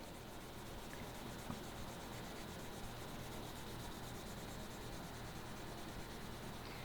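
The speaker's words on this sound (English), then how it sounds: "I'm going to show it to you on bronze, I'm going to show it to you on brass, and I'm going to show it to you on steel." A rubber sanding block scrubs abrasively over a bronze hand tool, a steady continuous sanding rasp with fine rhythmic strokes, close and even throughout with no voices.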